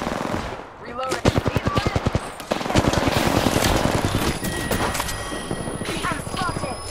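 Rapid bursts of automatic gunfire from an enemy squad in Apex Legends, a quick rhythmic volley followed by sustained firing and clattering, with in-game voice callouts over the shooting.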